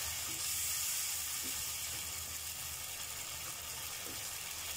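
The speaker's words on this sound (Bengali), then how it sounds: "মশলার সঙ্গে সঙ্গে আলুগুলি কষানো হয়ে যাবে" Potatoes frying with spices in a pan for pabda fish curry, a steady, even sizzle and hiss close up, continuous with no pauses and nobody speaking.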